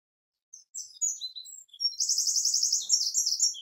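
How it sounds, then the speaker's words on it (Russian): A small bird perched in a persimmon tree sings outdoors, giving a few scattered high chirps followed by a rapid, steady trilling phrase, fairly close and clear against a quiet background. "О, птичка как на хурму села,"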